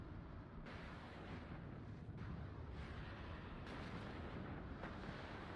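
Faint, distant artillery shelling in the strategy game WARNO, a low continuous rumble of repeated booming impacts blending into a steady roar.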